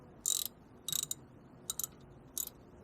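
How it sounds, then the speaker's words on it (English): Four short bursts of ratcheting clicks from tightening brake caliper bolts on a 2010 Toyota Corolla, crisp and close against quiet background. "I'm tightening down my caliper to the housing."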